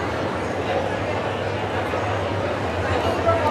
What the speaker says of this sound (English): you can hear all the like chatter and rumble from the audience